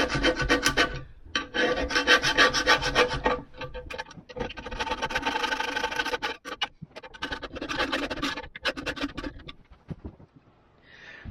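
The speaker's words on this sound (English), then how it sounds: "Now I'm going to be using the scraper and just trying to scrape out all this old stuff." Old gasket cement being scraped out of a wood stove door channel with a hand scraper, a steady close-up raspy scratching in long continuous strokes with a few brief pauses.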